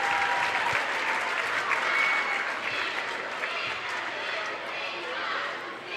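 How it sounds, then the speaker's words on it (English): A high school boys basketball crowd in a gym applauds steadily as a player checks out of the game, a long even roll of clapping with faint chatter and a commentator talking over it. "And Marshall gets a nice round of applause as he checks out."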